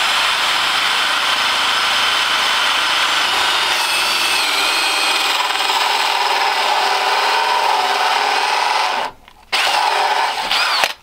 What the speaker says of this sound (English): I'm going to drill into the plastic and start going to this brick.